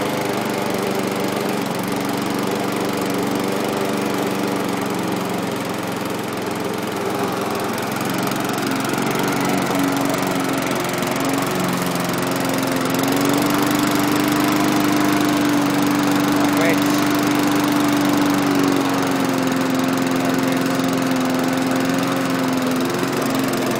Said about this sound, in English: I'll give it a start up so you can hear it running.